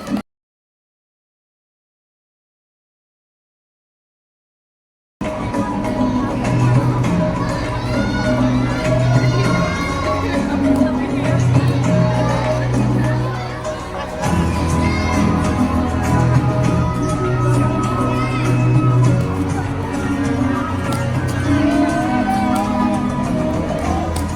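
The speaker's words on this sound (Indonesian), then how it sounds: "Beri tepuk tangan yang meriah dong teman-teman" After a few seconds of silence, a school crowd of elementary students at a West Javanese culture week bursts into sustained applause mixed with loud children's shouting and cheering, a dense, busy roar that carries on without a break.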